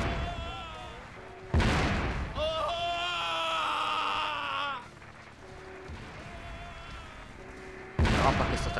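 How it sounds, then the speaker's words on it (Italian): Heavy explosions and artillery booms in the game Emergency 4, two loud sudden blasts with a sustained rumbling stretch and tonal effects between them. "La mappa che sta tremando a causa di tutte queste esplosioni"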